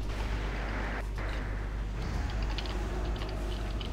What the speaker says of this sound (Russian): Все, взрыв.